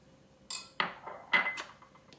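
A spatula mixes mustard into macaroni salad in a bowl, a quiet handful of short scrapes and light clinks spaced irregularly, with no talking.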